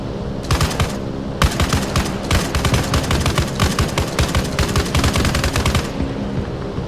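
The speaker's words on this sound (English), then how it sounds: "let's test out the guns" Guns on a modded World War II-style plane fire in Arma Reforger in long, loud, rapid machine-gun bursts with brief gaps between them, up close and with no talking.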